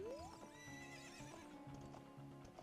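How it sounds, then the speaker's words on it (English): A horse in the Zelda: Ocarina of Time video game lets out a rising whinny followed by rhythmic clip-clopping hooves, layered over continuous game background music. "There's even a horse here."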